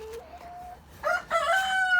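Ornamental hens in a flooded coop squawk and cackle loudly nearby, a couple of harsh agitated calls following a thin whining note.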